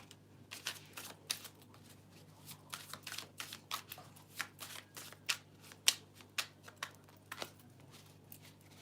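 A deck of cards is shuffled and handled in a quiet room, giving a string of soft irregular riffling snaps and flicks over about nine seconds, with no talking.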